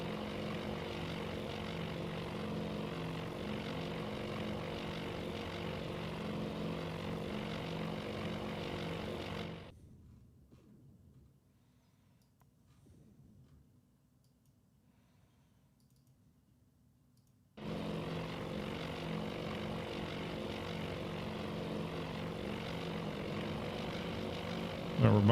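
Propeller aircraft engines drone steadily in the naval strategy game Task Force Admiral, a flight of about nine planes, loud and continuous, cutting to near silence for several seconds before the drone returns.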